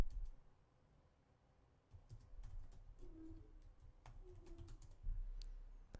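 A name is typed on a computer keyboard in quick, light key clicks that arrive in short uneven runs, faint and close over a low background hum, with no talking.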